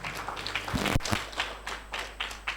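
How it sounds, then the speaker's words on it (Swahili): An audience at an education conference in a Dodoma hotel breaks into scattered clapping, a few sharp nearby claps over a thin, uneven patter of hands that comes and goes. "Naomba tujipigie makofi mazito kabisa."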